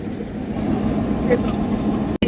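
A mail train hauled by 6000-series locomotive 6014 pulls out of Boalmari Bazar station with a steady low engine rumble and rolling noise, while voices talk faintly nearby.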